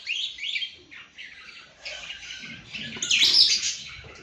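Pet birds chirping and tweeting in quick bright bursts, close and fairly loud, with a busier squawky flurry near the end and no talking.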